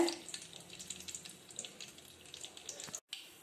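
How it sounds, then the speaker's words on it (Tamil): Mustard seeds and urad dal splutter in a little hot oil while making sundakkai vathal kulambu, a steady close crackle and sizzle with scattered sharp pops. "கடுகு உளுத்தம் பருப்பு நல்லா பொரிஞ்சிருச்சு."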